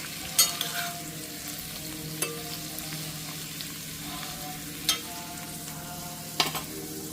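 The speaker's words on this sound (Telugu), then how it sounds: "సో ఈ ఆకుకూరలన్నీ ఇందులో వేగిపోవాలి మంచిగా" Potato and fenugreek greens fry in a pan with a steady close sizzle, broken by a few sharp scrapes and clacks of a spatula stirring; no one talks.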